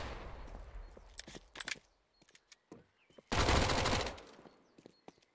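MAC-10 and AK fire in a Counter-Strike match on de_inferno: short rattling bursts and single shots, then a dense, sustained spray of rapid gunfire that trails off into scattered, fainter pops.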